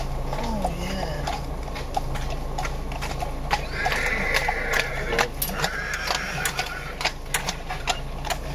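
Horses at Sutton Hall whinny and clop at moderate distance, with a steady low hum and mechanical ticking running underneath and brief crowd sounds in the background.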